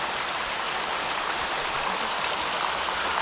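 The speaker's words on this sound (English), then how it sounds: "So it's not the falls, it's just a little bit of a creek." A small creek flows beside a trail near Seattle, its water a steady, close, even rush of broadband splashing that carries on without a break and without any voices.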